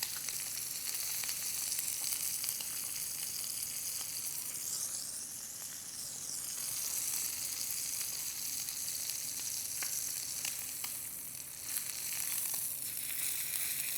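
Pork searing in a hot cast iron skillet, a steady, close, loud sizzle with crackling and hiss that continues throughout, with no voices over it.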